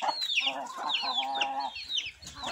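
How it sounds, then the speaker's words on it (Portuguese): Bearded laying hens on a farm cluck in quick repeated bursts close by, a busy run of short calls with no talk. "quem já viu galinha de cavanhaque, olha aqui, chega a balança"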